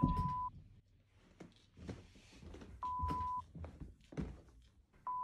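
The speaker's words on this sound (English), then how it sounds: "I keep hearing like a little beeping noise." A steady electronic beep tone from a fridge sounds in three separate bursts of about half a second, amid soft thumps and clunks nearby.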